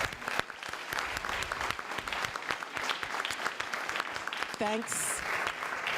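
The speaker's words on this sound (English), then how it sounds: "Maybe you can applaud for them." Forum audience applauding the organizing team with steady, dense clapping that fills the room, while a faint voice and a brief tonal beep rise over it near the end.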